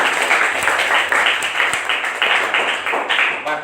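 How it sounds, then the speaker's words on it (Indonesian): A classroom of students applauds one classmate during a fiqh lesson, producing a dense, lively patter of clapping at moderate volume that continues steadily for a few seconds. "Tepuk tangan untuk Fatih."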